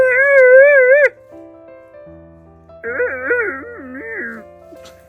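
Young puppies let out high, wavering whimpers and yelps in two bursts, one loud near cry at the start and a warbling run of whines later, with quiet low-pitched gaps between.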